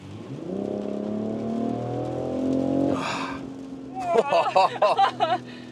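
BMW X3 M50 engine during agile driving, a rising rev that swells and then drops off as the throttle lifts, followed by people talking over the cabin noise.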